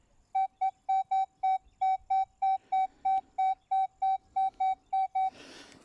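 A metal detector sweeping a roadside gives a run of about eighteen evenly spaced, clear, loud electronic beeps, then falls quiet into a brief rustle of movement at the end.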